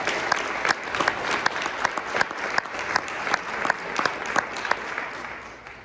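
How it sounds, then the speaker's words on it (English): Applause from a gathered crowd, with a sparse patter of individual claps standing out sharply over a softer wash of clapping, moderately loud throughout. "Let's give them a round of applause"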